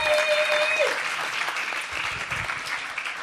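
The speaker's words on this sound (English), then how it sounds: "So give a round of applause." Audience applause at a panel talk, sustained steady clapping from a crowd heard close and fairly loud throughout, with a brief tonal hum at the start.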